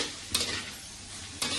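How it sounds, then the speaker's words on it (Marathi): Vatana dal stirred and sautéed in a hot tempering, a continuous gentle sizzle broken by two sharp scraping stirs, close and without talk. "फोडणीमध्ये डाळ अशी चांगली हलवून घ्यायची"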